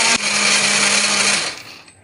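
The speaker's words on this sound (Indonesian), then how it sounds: "di sini biar lebih gampang untuk menghaluskan pakai blender" A kitchen blender grinds chili spice paste with a steady, loud motor whir that starts abruptly and runs for over a second before winding down.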